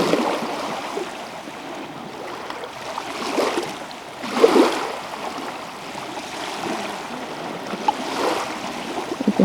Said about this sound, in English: You can hear the little waves, the water coming up.